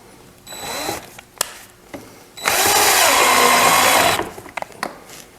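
A power drill fitted with a 90-degree angle attachment whirs in one steady, loud burst of about two seconds while building a rustic side table, with short clicks and handling knocks before and after.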